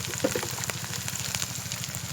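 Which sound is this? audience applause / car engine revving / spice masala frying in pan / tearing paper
spice masala frying in pan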